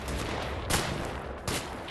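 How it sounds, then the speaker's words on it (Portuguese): Gunfire in the PS4 game Wolfenstein during a prison escape: two sharp shots about a second apart over a dense, constant noise of battle. "Tô só ouvindo os tiros batendo ali."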